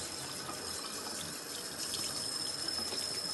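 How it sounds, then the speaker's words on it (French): A tap runs steadily into a sink as hands are rinsed, a continuous close hiss of flowing water with no voices. "Vous n'avez qu'à laisser couler de l'eau pour rincer les mains."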